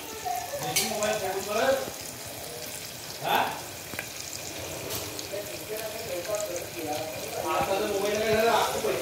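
Chopped onions sizzle in a hot pan while being sautéed until reddish-brown for a quick chicken biryani, a steady frying hiss with occasional stirring scrapes as someone talks over it.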